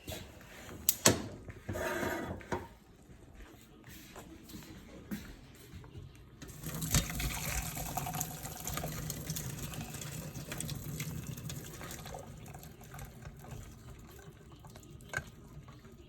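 Pasta cooking water being drained and strained in a kitchen, a sustained rushing pour of water lasting several seconds amid scattered clanks and knocks of pots and utensils, fairly quiet, with no talk.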